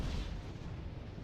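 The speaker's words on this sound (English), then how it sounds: "That was SU-100s firing at it." SU-100 tank guns fire in a war video game, a brief deep rumbling boom that rolls on as a low sustained roar, fairly distant and with no talking.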